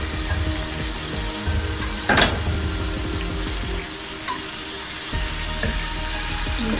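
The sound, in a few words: mutton frying in masala gravy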